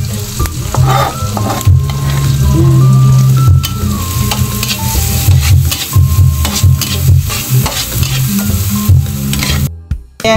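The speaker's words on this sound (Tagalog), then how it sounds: "Maglagay ako dyan ng oil and konting butter. Tapos, ito-toast ko lang itong garlic." Garlic toasting in oil and a little butter in a pan, sizzling and frying loudly and steadily close by, with stirring scrapes throughout before cutting off near the end.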